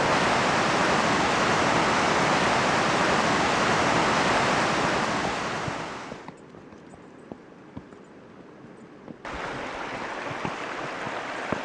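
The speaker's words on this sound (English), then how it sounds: "I think I found a little waterfall" A small waterfall on Brownie Gill in the Lake District rushes steadily and loudly, fading down partway through before the full splashing roar returns.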